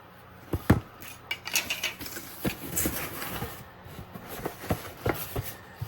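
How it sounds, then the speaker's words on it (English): A knife being pulled from a collection of knives and sheaths, with scattered metallic clinks, taps and rubs at close range, irregular and moderately loud, and no talking. "Let's pull out this other knife."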